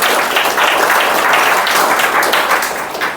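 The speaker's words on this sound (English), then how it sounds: "Can you all clap for them?" An audience at a live software demo claps together in a loud, dense burst of applause that holds steady for a few seconds before easing off slightly at the end.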